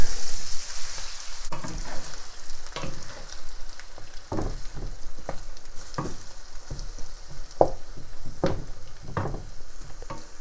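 Egg sizzling in a pan for a bitter melon stir fry, a soft continuous fry hiss broken by a series of sharp scraping stirs, close by with no talking.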